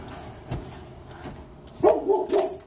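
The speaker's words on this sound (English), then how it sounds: "So this is my dog, Jack." A house dog barks a few times, with short, close yelping barks bunched toward the end after a quieter stretch of room noise.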